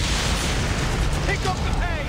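Ship cannons fire during a naval battle in Assassin's Creed Origins, a dense rumbling boom and roar of broadside blasts with shouting voices over the top.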